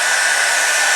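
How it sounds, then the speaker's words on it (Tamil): A Havells hair dryer runs on its cool setting, giving a steady, loud, close rush of blown air with a faint whine and no break. "ஸோ இந்த ஹேர் ட்ரையர் வந்து பார்த்திங்கன்னா வந்து யூஸ்ஃபுல்லாக இருக்குது"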